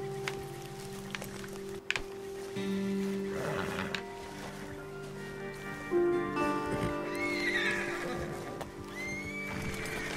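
Horses in Red Dead Redemption 2 neigh and whinny several times while hooves clip-clop and gallop away, moderately loud over a steady ambient bed.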